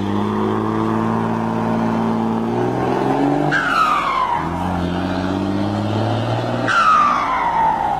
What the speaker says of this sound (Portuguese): E o barulho do motor é massa